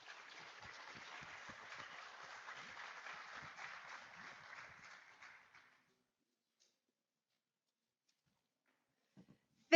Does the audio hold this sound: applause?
yes